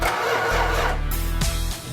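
A car engine turns over and catches, rumbling loudly with a rough mechanical idle close by.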